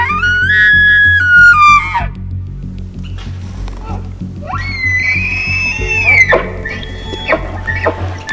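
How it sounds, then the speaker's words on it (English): Bull elk in the Montana backcountry bugling at close range during an archery hunt, two loud rising-and-falling screams with a whistling top and grunting undertone, separated by a short pause. "Hearing that bull scream at us at such a close distance is something you just can't describe."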